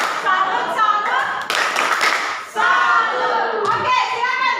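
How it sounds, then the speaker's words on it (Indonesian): A classroom of students performs the rhythmic 'tepuk salut' group clap, a burst of patterned hand claps mixed with young voices chanting and calling out, fairly close and lively. "mari kita kasih tepuk salut untuk kelompok 1"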